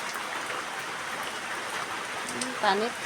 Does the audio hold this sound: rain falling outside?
yes